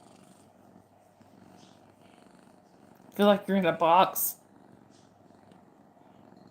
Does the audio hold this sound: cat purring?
yes